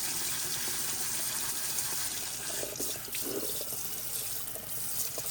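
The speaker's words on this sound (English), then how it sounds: "I'll be using some lukewarm water, not cold, not hot, just lukewarm. Kind of wash off the old mix, expose the roots." Lukewarm water from a tap runs steadily over an old violet's roots, washing away broken-down potting mix in a continuous close splashing stream with no voices.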